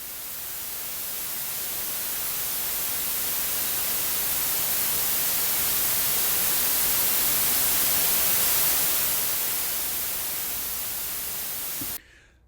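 Synthesized white noise sweep swelling slowly from quiet to full volume over about twelve seconds, a broad steady hiss that peaks and then cuts off abruptly, with no voices.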